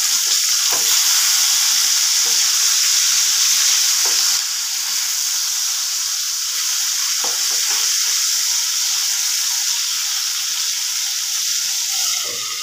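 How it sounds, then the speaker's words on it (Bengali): Catla fish fries in a pan on a gas stove after one side has browned, giving a loud, close, steady sizzle and hiss throughout with no talking. "মাছটা এবার আমি উল্টে দেব। একটা পিঠ ভাজা হয়ে গেছে।"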